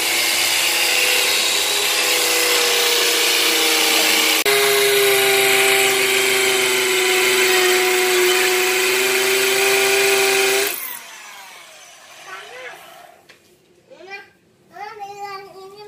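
A power drill runs steadily and loudly for about ten seconds with a pitch shift partway through, then stops, leaving faint voices and a child's chatter.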